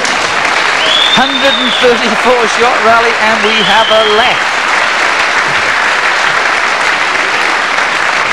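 A crowd applauds at a 1991 Scottish Open squash match between Jahangir Khan and Chris Dittmar, sustained clapping filling the hall while a commentator talks over it before it fades.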